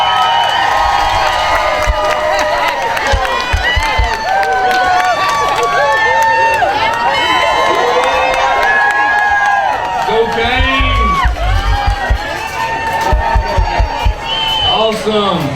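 A crowd at a high school fall sports introduction cheers and shouts for 6U cheerleaders, a loud sustained roar of children's and adults' voices with whoops and excited yells throughout.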